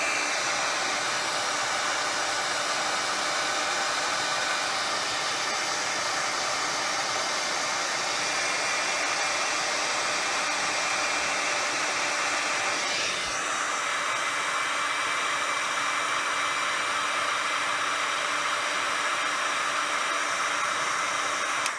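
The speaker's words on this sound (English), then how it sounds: "So I'm gonna hit it with the heat gun again, just to soften that up." A heat gun blows hot air steadily onto a doll part, a continuous close whooshing roar with an unchanging airy hiss, loud and running alone without voices.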